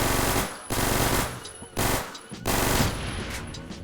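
An LMG fires in long sustained bursts in the Roblox game Phantom Forces, loud rapid automatic gunfire broken by short pauses, three or four bursts in close succession.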